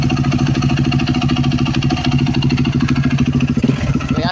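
A 2013 Yamaha YZ450F motorcycle engine with a broken clutch lining runs steadily and loudly up close, holding a rough, throbbing idle for the whole stretch with a brief stumble near the end.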